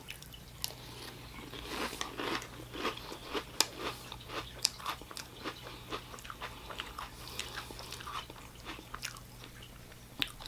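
Crisp, close bites and crunches of Fruity Lucky Charms cereal, irregular chewing crackles repeating for about ten seconds with no talking.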